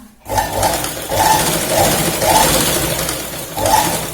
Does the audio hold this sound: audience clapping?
no